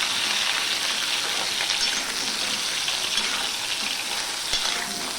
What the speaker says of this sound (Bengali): তেলটা গরম হয়ে গেছে এবার সবার প্রথমে আমি গাঠি গুটিগুলোকে ভেজে নেব